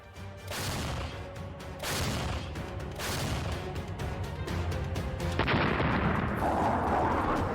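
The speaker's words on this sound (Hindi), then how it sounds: "बारूदी धमाकों का ऐसा शोर सुनाई दे रहा है" Artillery fire and explosions in Donetsk during the Russia–Ukraine war boom repeatedly, several heavy blasts at roughly one-second intervals blending into a loud continuous rumble and crackle with no speech.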